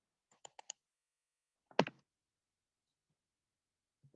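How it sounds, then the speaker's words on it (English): Sparse computer mouse clicks while working in Microsoft Word: a quick cluster of three or four sharp clicks, then a louder double click after a pause, then faint further clicks, in a quiet room. "Now I'm clicking on insert header."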